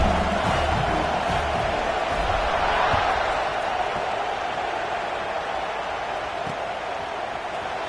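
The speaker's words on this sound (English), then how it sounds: "this crowd is buzzing after that last score" A football stadium crowd buzzes after a score, a dense, steady wash of distant cheering and chatter that holds at one level throughout.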